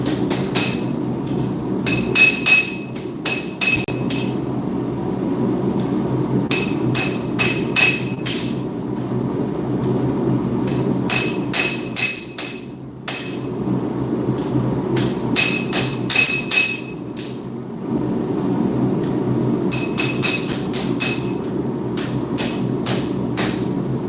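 An old steel spanner being hammered flat on an anvil, sharp ringing metallic blows struck in quick rhythmic volleys with short pauses between them, loud and close, over a steady low background hum.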